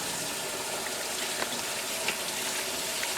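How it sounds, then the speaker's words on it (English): Tap water runs steadily while hands are washed in a kitchen sink, a constant broadband rush with a few faint splashes and clinks, fairly close and with no voices. "Let me wash my hands and I'll wrap them up for you."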